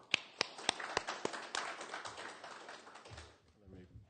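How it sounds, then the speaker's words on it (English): A DevOps meetup audience in Amsterdam applauds: a few sharp, separate claps open, then they swell into dense, steady clapping for about three seconds before fading, with a brief voice near the end. "big applause for this lovely little guy"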